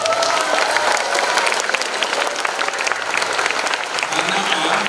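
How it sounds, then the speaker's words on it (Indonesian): Students at an anniversary celebration of SMPN 9 Yogyakarta school give sustained, loud applause, a thick continuous spread of claps lasting about five seconds, with faint crowd murmur beneath. "Kalian memberikan apresiasi dengan tepuk tangan."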